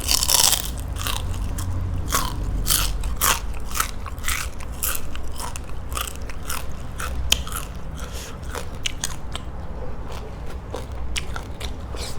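Crispy fried tilapia being bitten and chewed up close, a steady run of sharp, crackling crunches repeating every fraction of a second throughout, with no talking.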